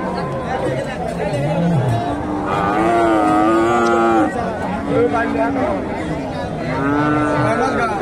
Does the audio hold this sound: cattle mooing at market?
yes